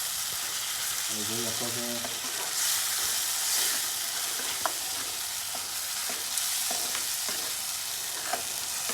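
Chopped tomatoes fry and get stirred in a pan, a steady broad sizzle running throughout with occasional scraping clicks, and a voice speaking briefly near the start.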